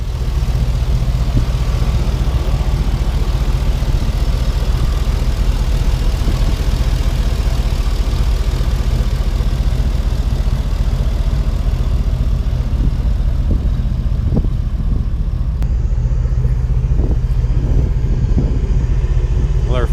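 A 2004 Chevrolet Silverado five-speed, swapped from a V6 to a V8 and fitted with an open Y-pipe and no further exhaust, idles on its first start, a loud, steady, deep rumble running throughout.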